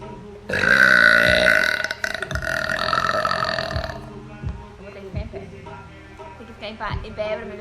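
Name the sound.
loud burping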